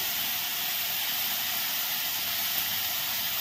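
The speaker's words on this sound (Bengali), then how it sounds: "পেঁয়াজ রসুন দিয়ে আমি মশলাটা একটু ভালো করে তেলের মধ্যে কষিয়ে নিচ্ছি" Onion and garlic paste frying in hot oil for a jackfruit and prawn curry, giving a steady, even sizzling hiss that carries on without a break from start to end, with no one talking.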